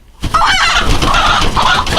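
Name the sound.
broody chicken (Americana, Brahma mix) clucking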